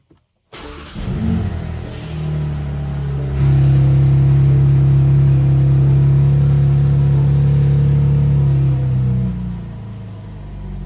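A BMW G82 M4 Competition engine fires up with a loud startup flare, then drops into a deep, steady idle that rises in pitch for a moment before holding a strong rumble, close and alone without any talk.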